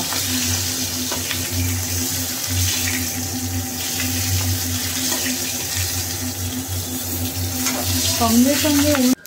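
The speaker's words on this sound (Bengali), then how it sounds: "আমি কিন্তু এবার মাছগুলোকে একে একে ভেজে নেব।" Tangra fish frying in oil, a loud, dense, continuous sputtering sizzle with a steady low hum beneath it, swelling toward the end.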